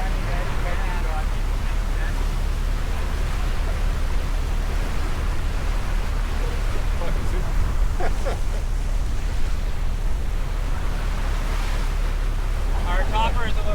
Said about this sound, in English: And there's those zippy boats again.